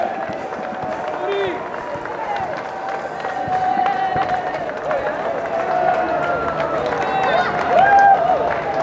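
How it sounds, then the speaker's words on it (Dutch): Spectators at the Roparun charity relay finish on the Coolsingel in Rotterdam cheer and applaud an arriving team, a steady crowd wash with whistles and a voice over a PA, fairly distant and continuous. "Geef ze een geweldig applaus."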